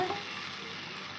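Chicken sizzles loudly in a hot pan while being stirred with pepper, a brief steady frying hiss.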